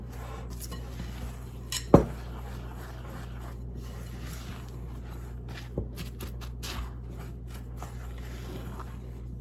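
A homemade seasoning mix with garlic powder being stirred in a container: soft scraping and light clinks over a steady background hum, with one sharper knock early on.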